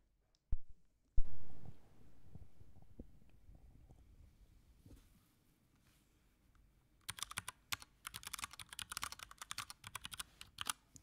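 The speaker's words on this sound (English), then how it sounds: "let me pause my music that I got going on and you get to hear the keyboard a bit" Typing on a mechanical keyboard fitted with Cherry Brown switches: after a couple of bumps and a fading tone, a quick run of crisp key clicks rattles close-up near the end.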